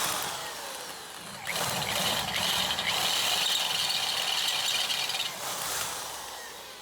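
A drill runs a larger bit into a steel truck-bed trailer part, building into a sustained grinding whine for several seconds before easing off. It is close and moderately loud, with no talk.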